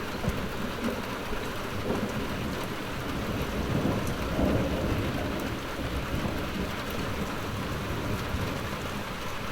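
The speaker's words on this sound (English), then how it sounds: "And the thunder continues to rumble ever stronger." Thunder rumbles on and on through steady heavy rain during a June thunderstorm in northwest England, a dense continuous roar of rainfall with deep swelling rolls of thunder and no voices.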